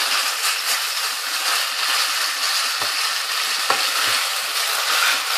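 Meat and daikon radish frying in a pot, a dense continuous sizzle held at an even level, close by, with a few faint clicks of a spoon and no voices.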